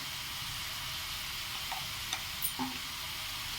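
Cabbage fries in a pan with salt and turmeric, giving a steady soft sizzle close by, broken by a few faint clinks of stirring.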